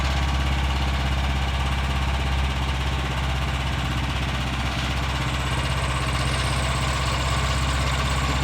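A Vanguard 9 horsepower tractor engine idles steadily at close range while sitting on a jack, a constant low rumble with a faint rattle and no pauses.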